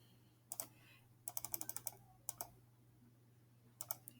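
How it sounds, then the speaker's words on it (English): Clusters of light key clicks from a computer keyboard, a lone tap, a quick burst of several keystrokes, another pair, then a final short flurry, fairly quiet over a steady low hum with no talk. "Let me type it."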